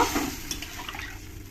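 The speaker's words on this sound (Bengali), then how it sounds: "জল দিয়ে দিয়ে দেবো আমি আর একটু সামান্য একটু হলুদ আর সামান্য একটু লবণ" Water pours into a pot of rohu fish curry, a brief, soft splashing and trickling that fades over a second or two.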